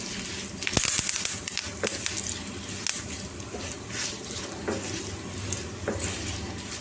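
Ingredients frying with turmeric in a pan for pachi pulusu are stirred with a utensil, giving a steady close sizzle with scraping and tapping against the pan throughout.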